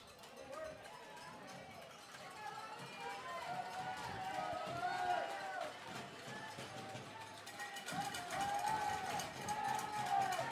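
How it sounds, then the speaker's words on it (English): A baseball playoff crowd cheers at a steady roar, with cowbells clanking and feet stomping on the stands. The noise swells and rises near the end, and a commentator talks over it. "A lot of foot stomping."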